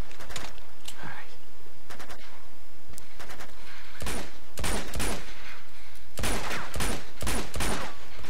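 Gunfire in Uncharted 2 aimed at the player: loud, close shots and short bursts crack out irregularly, thickening into rapid volleys in the second half, over a low background rumble, with faint voices at times underneath.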